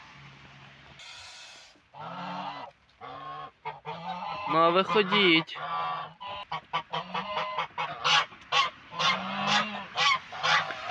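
Several geese honk repeatedly and loudly nearby in uneven bursts on a farmstead in the morning, and a person speaks briefly at the start.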